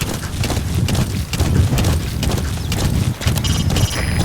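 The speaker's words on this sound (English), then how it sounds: "Planning to walk the whole wilderness on foot? Use your horse." A horse's hooves clip-clop steadily in Metal Gear Solid V: The Phantom Pain, a dense continuous trot mixed with wind and ambient rumble, loud and close.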